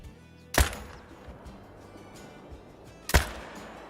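Two loud, sharp rifle shots from a hunting session in the game Call of the Wild, spaced about two and a half seconds apart, each with a brief trailing echo over quiet outdoor ambience.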